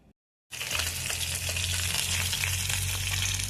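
Koi fish frying in hot oil in a pan, a loud, steady sizzle that starts abruptly after a brief pause and continues unbroken, close up with no talking.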